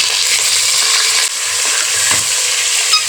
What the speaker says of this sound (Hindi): उससे है ना हमने ये चिकन डाल दें और 2 चम्मच हम इसमें अदरक लहसुन डालेंगे और इसमें ये चिकन भूनेंगे।